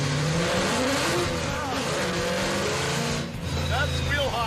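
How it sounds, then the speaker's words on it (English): A muscle truck launches hard with wheel hop, a loud, close, continuous engine roar that revs and shudders throughout. "That's wheel hop."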